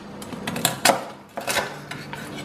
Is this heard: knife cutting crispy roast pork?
yes